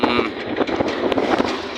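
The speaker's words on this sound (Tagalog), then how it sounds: "Pasensya na po kayo kung mahangin kasi nasa taas po kami ng transport namin" Wind buffets the microphone on the upper deck of a moving transport vehicle, a steady broadband roar with gusty bumps close to the mic, while a voice talks over it.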